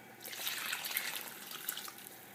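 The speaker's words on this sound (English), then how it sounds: "So I'm going to add some water." Water poured into a pot of simmering hen soup (sopa de gallina), a steady splashing, trickling pour lasting a couple of seconds, fairly close and alone with no talking.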